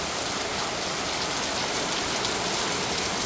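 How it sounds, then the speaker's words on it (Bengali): Steady rain falls in Bangladesh, a dense, even hiss of drops pattering on surfaces close by, with no voices and no pauses. "বৃষ্টি শুরু হয়ে গেছে।"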